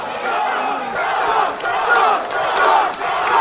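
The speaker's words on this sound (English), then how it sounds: "And listen to the crowd." A wrestling crowd at a 2017 ladder match roars and cheers continuously, a dense, loud wall of voices that swells and dips in waves for the whole stretch, with no clear talk on top.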